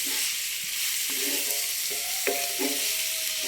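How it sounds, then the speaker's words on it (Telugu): Chopped onions fry gently in a pan for Telugu-style egg bhurji, a steady soft sizzle running throughout with a few faint scrapes of a spatula against the pan. "ఉల్లిపాయ జస్ట్ మగ్గితే చాలండి, బాగా ఎర్రగా వేగకూడదు ఈ బుర్జీకి."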